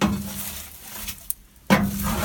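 A big stirring stick scrapes and knocks around ash inside an outdoor wood stove, with a few short clattering strokes and a sharp clack near the end, close and fairly loud.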